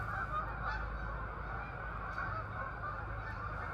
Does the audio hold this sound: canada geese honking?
yes